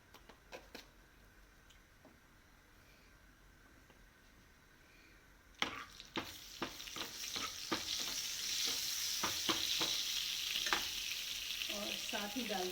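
Red chillies and asafoetida hit hot oil and burst into a loud, crackling sizzle after a few faint clicks, spitting and popping steadily while being stirred in the pan.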